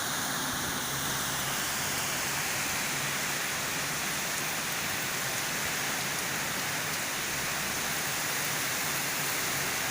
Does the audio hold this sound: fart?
no